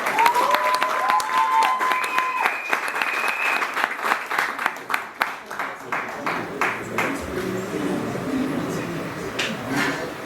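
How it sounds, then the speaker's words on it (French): Audience at a national traditional medicine awards ceremony breaks into dense applause that swells then thins to scattered claps, with a voice speaking over the start. "Une fois de plus, applaudissons pour ceux-là qui veillent pour nous."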